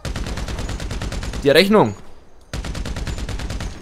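Rapid automatic gunfire rattles in a fast, even burst from a gun in the police-patrol video game GTA 5, broken by a short spoken line and a brief pause before the shooting resumes.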